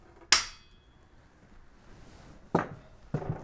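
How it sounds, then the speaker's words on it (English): A headset crown race remover locks into a bicycle head tube with one sharp, bright click, followed a couple of seconds later by two duller metallic knocks close to the microphone. "You'll hear it click once it locks into place."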